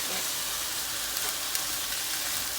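Thinly shredded potatoes frying in a pan as a teaspoon of red wine vinegar goes in, a dense steady sizzle and hiss close by with a couple of faint clicks.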